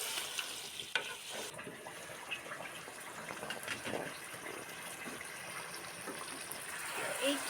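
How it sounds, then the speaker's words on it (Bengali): Chicken for biryani is stirred and fried in a pan, a steady soft sizzle with scraping stirs and occasional clinks, fairly faint and continuous. "এবার এটাকে নেড়ে চেড়ে খুব সুন্দর করে চিকেনটাকে কষতে দেব"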